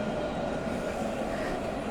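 A tram crosses the Pont de Pierre, a rebuilt stone bridge in Tours, with a steady, close, broad rumbling roar that runs without a break. Faint outdoor background sounds lie underneath.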